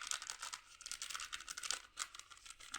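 A packet of baking powder being torn open up close, a rapid crackly tearing and crinkling of the wrapper that continues unevenly for a few seconds, with no talking.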